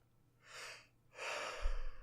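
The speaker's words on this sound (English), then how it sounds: "So intense that you have to yawn." A slow, breathy yawn in two long airy exhalations, close and quiet, with no talk.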